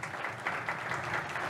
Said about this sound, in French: avec une petite photo et vos applaudissements